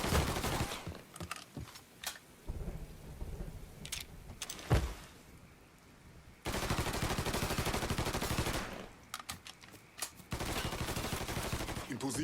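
Gunfire in the Mafia 3 video game, bursts of shots crackling in loud clusters with quieter gaps between, dense sustained firing toward the end.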